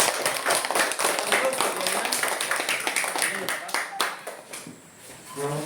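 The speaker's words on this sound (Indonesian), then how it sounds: "Kami tepuk tangan untuk kelompok 4" Classroom applause for a student group: scattered clapping from pupils, fairly close and uneven, with some talk and chatter mixed in as the clapping fades toward the end.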